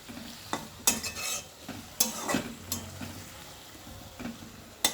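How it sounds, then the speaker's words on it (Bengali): Broad beans coated in a coriander-leaf paste are stirred in a pan, the spoon scraping in irregular close strokes over a soft sizzle, with no voices. "এই বাটা দিয়ে শিমটাকে আমি ভালোভাবে নাড়াচাড়া করে নেব"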